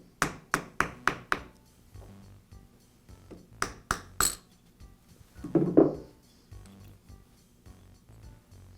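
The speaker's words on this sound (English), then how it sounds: "I'll tap the armature out of the motor plate" A DeWALT shear armature is tapped out of its motor plate in a quick run of five sharp metallic taps, then three more, followed by a duller knock and faint handling sounds.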